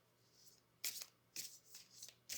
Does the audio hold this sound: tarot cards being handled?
yes